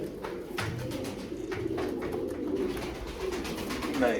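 Soft, continuous cooing and murmuring of pigeon chicks close by, low and throaty, with faint rustling in the background.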